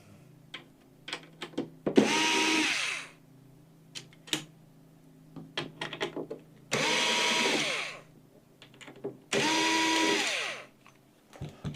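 A power screwdriver unscrews parts from a CPU socket during a PC build, whirring in three separate bursts of about a second each, with small clicks and handling noises between them.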